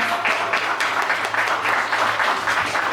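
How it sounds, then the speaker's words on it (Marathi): Audience applause at an anniversary celebration, a steady dense clatter of many hands clapping at close range, even in volume across the short stretch. "सर्वांनी एक टाळ्या वाजवायच्या जोरात."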